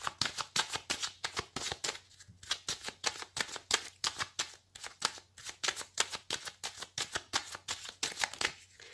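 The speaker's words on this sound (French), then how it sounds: "je vais faire une coupe avec le tarot que j'utilise pour les consultations" A tarot deck being cut and shuffled, a steady run of quick crisp riffling bursts repeating at an even rhythm for the whole stretch, close and fairly loud with no speech.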